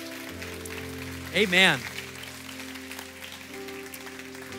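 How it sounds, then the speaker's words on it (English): A church congregation claps continuously over sustained keyboard music, and a single voice calls out briefly partway through. "can we clap our hands to heaven?"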